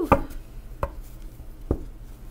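Tarot cards are shuffled by hand, likely on a cloth, giving three short, sharp slaps spaced about three quarters of a second apart. Each lands close and clear against a quiet room.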